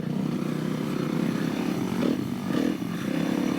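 A dirt bike runs on an off-road ORV trail, its engine droning steadily and loudly nearby with slight rises in revs, no talk over it.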